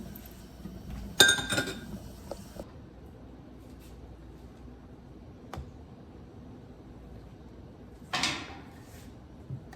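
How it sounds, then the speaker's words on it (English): Glass jars clink and knock together while peach jam is jarred in a kitchen, a few brief sharp clinks spread apart over a quiet background. "So this is getting put in jars."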